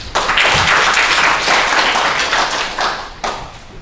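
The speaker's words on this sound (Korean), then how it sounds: "큰 박수로 맞이해 주시기 바랍니다." An audience in the main conference hall of the National Library of Korea's digital library applauds a presenter at an academic conference, with brisk, close clapping from many hands that stays full before tapering off near the end.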